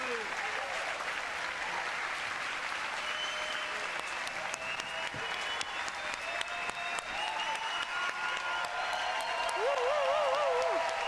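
Sustained applause from a large audience at the Ubisoft E3 2018 conference, steady and loud throughout with a slight swell near the end.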